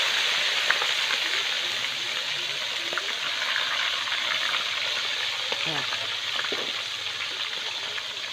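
Tilapia fish frying in a pan of hot oil, a steady close crackling sizzle with occasional pops, continuous throughout.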